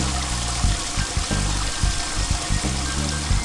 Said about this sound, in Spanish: Y aquí le seguimos tallando hasta que ya le salga la agua transparente.